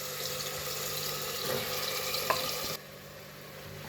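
Stuffed tinda sizzle and hiss as they go into hot oil, a soft, wet crackle that runs on and then drops away sharply near the end.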